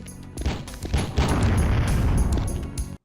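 Gunfire and booming blasts in The Fifth Element PS1 game from 1998, a run of loud, punchy shots and bursts over a rumbling bed, ending in abrupt silence.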